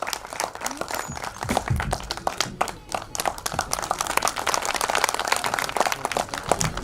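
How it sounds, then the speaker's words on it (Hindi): An audience at a film trailer launch in Prayagraj applauds Azad with energetic, uneven clapping that rises and dips and carries on for several seconds from a moderate crowd. "एक बार जोरदार तालियां आजाद जी के लिए"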